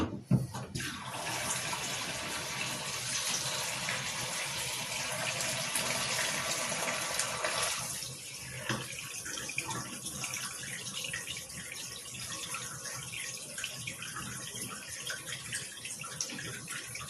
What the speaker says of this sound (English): what we actually need to do now is fill up the kitchen sink